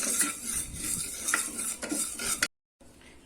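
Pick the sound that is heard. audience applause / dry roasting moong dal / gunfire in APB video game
dry roasting moong dal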